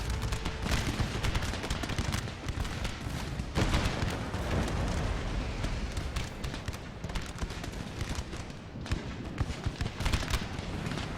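Dense, continuous musket volleys from a Napoleon: Total War battle in the Darthmod Russian campaign, loud rolling crackles of massed gunfire overlapping with no break for about eleven seconds.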